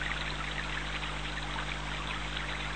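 Steady rushing of flowing water, a continuous broadband stream sound with no pauses, fairly close and even in loudness throughout.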